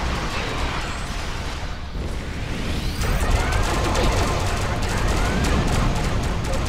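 Ship weapons in the Star Trek Online space game fire rapidly at protomatter torpedoes, a loud dense barrage of bursts and rumbling impacts that intensifies after a brief lull.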